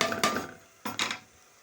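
Grated carrots stirred into frying onion in a pan, a few brief scraping clatters of a utensil against the pan in two short bursts, close and alone.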